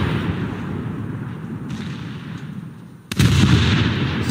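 Ship cannon fire in War Thunder's naval battle with the cruiser Leipzig: a low rumbling background, then one sudden loud boom from the ship's guns with a lingering roar.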